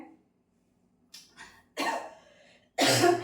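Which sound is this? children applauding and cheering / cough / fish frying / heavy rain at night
cough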